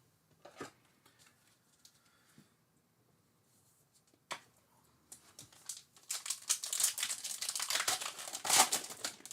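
Wrappers of Score and Pro Set football card packs from a blaster box are torn open, giving scattered soft rustles and then dense, loud, close crinkling toward the end, without talk.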